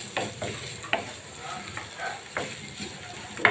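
Potato filling for singara being stirred and dried in a hot pan, with a steady soft sizzle and repeated scraping strokes of a spoon at close range.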